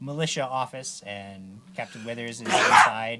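A person sneezes once, a sharp burst near the end, following speech from people talking close by.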